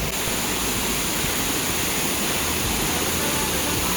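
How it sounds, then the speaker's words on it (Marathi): Steady, dense roar of the Ghonsari waterfall, loud and continuous, close by with no breaks and no voices. "आम्ही त्या घोंसरीच्या धबधब्यापर्यंत पोहोचलो"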